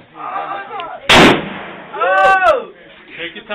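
A big gun fired once, one loud sharp blast near the middle, with people talking before and after and an excited exclamation following the shot.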